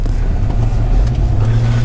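A V8 truck engine accelerates in sport plus mode with a pedal commander fitted, giving a loud, deep, steady rumble heard from inside the cab, with no talk.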